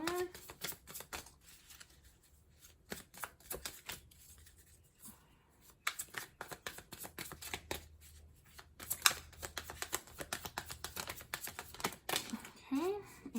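Tarot cards being shuffled and drawn, quiet and close, with bursts of rapid riffling and flicking separated by short pauses, soft voice audible in places.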